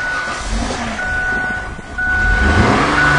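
A car engine running poorly from a vacuum leak, a rough low idle that sags and then picks up as the throttle is pressed, loud and close, with a steady high electronic whine over it.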